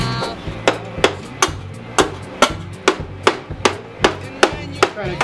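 A hammer strikes the rusted metal fender of a 1961 car in a steady series of about a dozen sharp, close, loud blows, spaced roughly half a second apart, each ringing briefly before the next.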